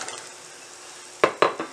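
Sliced carrots and beans are dropped into a pan of boiling water and stirred, giving a soft simmering hiss followed by a few sharp scraping clatters of a utensil against the pan.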